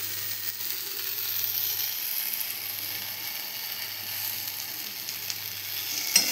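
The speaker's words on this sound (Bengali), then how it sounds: "এই যে ভেন্ডি রান্না হচ্ছে, ভেন্ডিটা প্রায় কষে এসেছে" Okra (bhindi) cooks in a pan with a low, steady hiss and faint crackle that stays even throughout. Heard close but quiet, with no talking.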